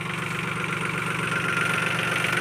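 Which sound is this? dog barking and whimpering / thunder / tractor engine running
tractor engine running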